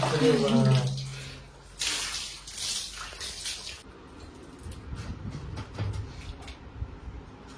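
Water splashing and pouring while a small child is bathed, soft wet swishes and trickles running through most of the stretch, fairly close, with people talking and laughing over it.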